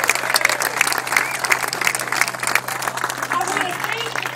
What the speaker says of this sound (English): Give yourselves a loving round of applause.